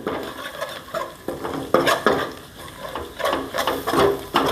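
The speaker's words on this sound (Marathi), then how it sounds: "सगळे मसाले आपण टाकून घेतले ते व्यवस्थित घालून घेऊया" A spoon stirs spices through shev bhaji curry in a pan, scraping in repeated bursts about every half second over a soft sizzle, close and fairly loud with no talk.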